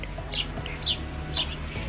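A sparrow gives three short, bright chirps spaced evenly about half a second apart, fairly clear over a low steady background hum.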